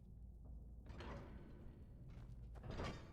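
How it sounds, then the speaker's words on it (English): Door opening in a video game: a faint, low mechanical thump and creak, with a brief rattle near the end. "Let me get the door."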